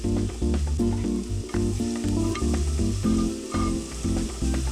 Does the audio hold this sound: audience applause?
no